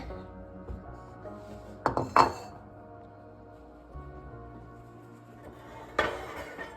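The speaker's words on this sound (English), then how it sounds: "Now you're gonna add it to a bowl." Maruchan chicken-flavor ramen goes into a bowl with a few close clinks and clatters of dishware, a sharp burst near the middle and another near the end, over a quiet kitchen background.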